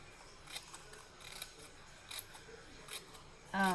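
Scissors snip paper being cut for a box built from two wooden egg shapes, a series of quiet, separate crisp cuts spaced about every second or so, with a brief louder rustle of handling at the end.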